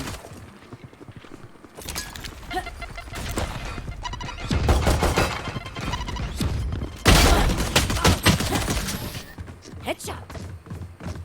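Rapid bursts of gunfire in the Valorant shooter game, loud and dense, with clusters of shots separated by short pauses and heavy impacts around the middle and late part.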